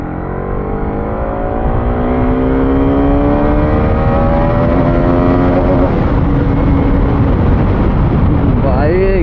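A KTM Duke 390 motorcycle engine runs loud and close for the whole stretch, its pitch rising steadily as it revs, with a brief sharp flutter near the end; a voice talks over it.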